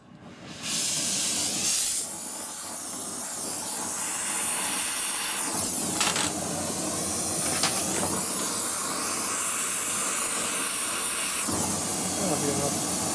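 A heat torch hisses loudly and steadily while heating Loctite on the cylinder bolts of a 1972-85 XL big bore finned cylinder, the roaring spray starting abruptly and continuing with slight shifts in intensity.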